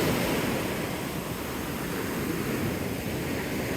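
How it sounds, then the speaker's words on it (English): Big ocean waves at high tide roll onto a beach, a continuous broad roar of surf and wash with light wind noise and no voices. "big waves. It's high tide right now, so the water is also higher."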